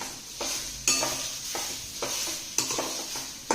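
Pea and potato kachori filling mixture being stirred in a pan, with a steady scraping and soft sizzle and a few sharper utensil strokes, close and alone without talk.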